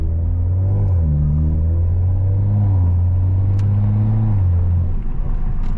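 A 500-horsepower Toyota Supra cruises in normal mode, its engine a steady low drone with smooth pitch shifts as it moves through gears, heard from inside the car with no talking.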